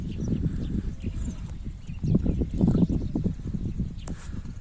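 A plump horse at a livestock bazaar in Özgön, its hooves thudding in a busy, uneven clip-clop on the ground, close and fairly loud over crowd murmur.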